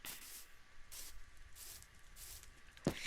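Soft swishing footsteps on grass, about five steps at an even walking pace, quiet and close.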